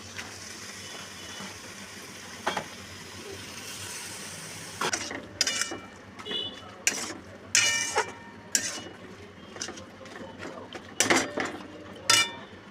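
Bottle gourd pieces go into a pan of coconut paste for a prawn and gourd curry, bringing a run of clattering metal knocks and scrapes, sparse at first and then a steady series of sharp clinks, close by with no talk.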